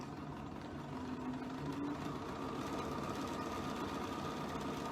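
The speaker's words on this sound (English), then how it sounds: "I'm stitching across the bottom of the pillowcase now" A sewing machine runs steadily, stitching across the bottom of a fabric pillowcase with a continuous, even mechanical whir that holds at a constant level throughout, with no talking.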